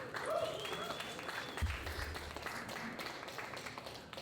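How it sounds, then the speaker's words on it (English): Panel audience at a Toronto DAO blockchain event applauding the sponsor, BitBuy Exchange; faint, diffuse clapping that sounds distant and continues through the clip with a faint voice partly under it. "Let's give them a round of applause."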